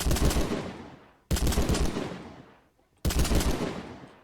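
Scoped gun firing in modded Minecraft, three loud close bursts of rapid fire, each about a second long and decaying, separated by brief gaps.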